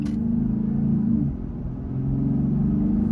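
A Jeep Gladiator cruising along the road, its engine giving a steady, deep low rumble that dips slightly midway and then holds on. No voices.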